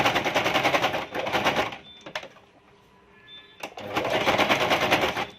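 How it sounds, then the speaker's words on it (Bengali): A sewing machine stitches a homemade fabric mask in two rapid, close, rattling bursts, with a brief quieter pause between them. "আমি আবার কয়েকটি সেলাই দিয়ে আটকে"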